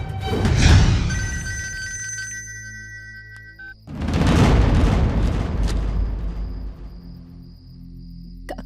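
An electronic phone ringtone sounds loudly in two bursts with a pause between, the tonal melody carrying over a heavy low rumble.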